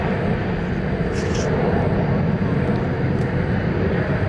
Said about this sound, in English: So the big Turkish Dreamliner 7879 is about to begin its transatlantic flight to Istanbul.